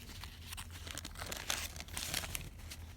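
Painted paper being folded by hand, a dry crinkling and crumpling with a few sharper crunches, close and fairly quiet with no voices.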